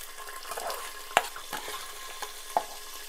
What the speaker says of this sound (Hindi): यहाँ पे हम दो कटी हुई प्याज लेंगे और इसे हम अच्छे से गोल्डन ब्राउन करेंगे।